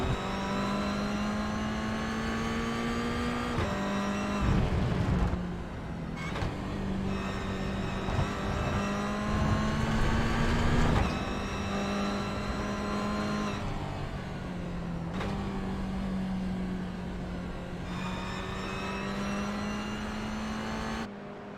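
Toyota GR86 race cars in a sim racing game drone along with engine notes rising steadily through each gear before sharp upshifts, several acceleration runs in a row, loud and continuous.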